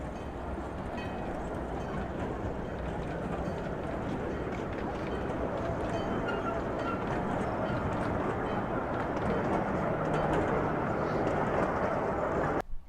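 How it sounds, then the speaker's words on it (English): A train rolls past on Nami Island in a steady, loud rumble with faint rhythmic rail clatter, sustained for the whole stretch before cutting off abruptly. "I found the train."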